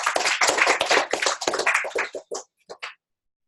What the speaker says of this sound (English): So huge round of applause to Jacqueline.